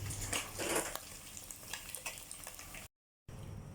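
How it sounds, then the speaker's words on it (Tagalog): Small river-caught fish frying in oil, a close, steady crackling sizzle with occasional stirring and utensil clinks, briefly cut to silence before the sizzling resumes. "magpiprito tayo ng mga isda na ating nahuli sa riwa nung isang gabi pa to"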